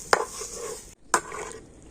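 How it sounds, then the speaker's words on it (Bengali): Two quick scraping strokes of a spoon stirring dry semolina with a pinch of salt in a pan, close and fairly loud with a short gap between, no voices. "লবণটা দিয়ে খুব সুন্দর করে সুজিটাকে এইভাবে নাড়াচাড়া করে নিতে হবে"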